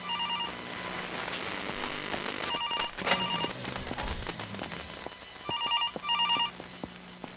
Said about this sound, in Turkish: Oğlum az önce telefon çalmamıştı.